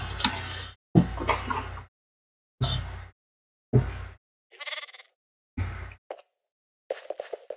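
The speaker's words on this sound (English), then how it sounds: "Yeah, we have two fucking sheep." Sheep bleating in the video game Minecraft, several short bleats in separate bursts, fairly close, followed by a few small clicking game sounds.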